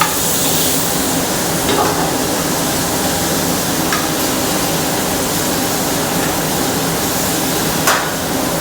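Golden cooked potatoes fry loudly in a pan at an outdoor summer harvest cooking demo, a dense, constant sizzle with a few faint clinks of stirring.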